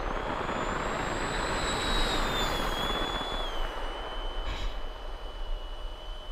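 A 70mm EDF model jet makes a full-throttle low pass, a steady loud rushing whine that holds strongly, then drops slightly in pitch as it goes by.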